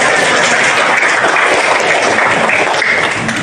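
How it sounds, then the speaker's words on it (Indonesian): Classroom applause from a group of students and their teacher during a lesson, a dense steady clatter of many hands filling the whole stretch at close range with no talk over it. "tepuk tangan untuk kita semua"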